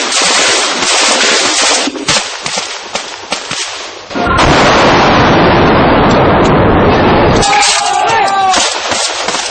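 Loud bursts of gunfire crackle and echo during military combat training, with a sustained roar of heavy firing in the middle, then sharp shots and metallic clatter resume.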